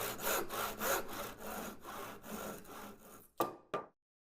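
Wooden support strips being cut to size with a saw give a run of rhythmic back-and-forth rasping strokes, close and clear, ending with two sharp final strokes before silence.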